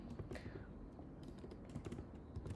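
Quick keystrokes tapping on a computer keyboard while text is entered, a steady run of soft, close clicks with a brief faint voice near the start.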